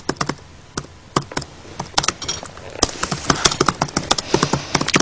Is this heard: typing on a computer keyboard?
yes